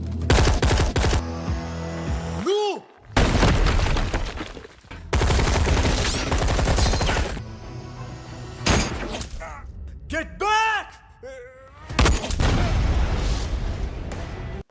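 Dense gunfire and explosions in a combat scene with rebels, heavy booming volleys and sustained shooting broken by brief gaps, with voices calling out in between.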